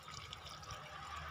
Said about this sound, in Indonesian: Kita langsung bilas pakai air biasa saja